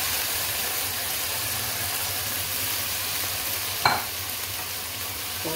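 Yogurt fries in a pan with sugar added, giving a steady broad sizzle throughout and one brief scrape of a spoon stirring partway through; no one speaks.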